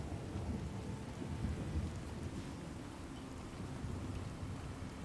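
Steady heavy rain with deep rolling thunder from a Fallout 4 storm generated by the True Storms weather mod, a dense continuous downpour with low rumbling throughout.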